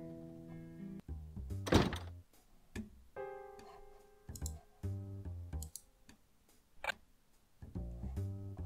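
A door opening in the point-and-click video game Edna bricht aus, a dull thunk with clicks, set against game music with soft tonal notes and other scattered knocks.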